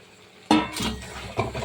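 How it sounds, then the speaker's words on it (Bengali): Fried cauliflower tipped into a pan of potatoes and spices, starting with a sudden clatter followed by scraping and stirring against the metal pan, close and clear with a soft sizzle underneath. "এবার আমি ফুলকপি যে ভেজে রেখে দিয়েছিলাম, ফুলকপিটা দিয়ে দেবো"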